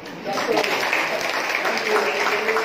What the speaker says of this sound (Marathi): मला वाटतं आता तुम्ही टाळ्या वाजवायला हरकत नाही